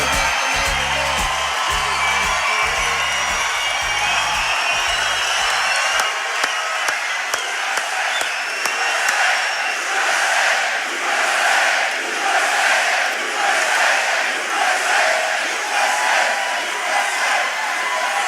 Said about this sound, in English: Boy, what a crowd.